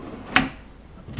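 A drawer in a built-in wall cabinet of a hotel suite slides and bumps shut with one sharp wooden knock, followed by quiet room tone.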